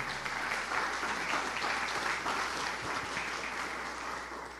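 A church congregation applauds during a sermon, a warm, steady burst of clapping that swells and then slowly tapers over several seconds.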